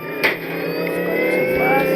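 RC car drifting in the video game Dude Theft Wars, a continuous whining engine tone that rises and holds throughout with a brief bump at the start.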